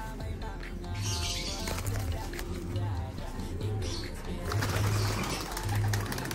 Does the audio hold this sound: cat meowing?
no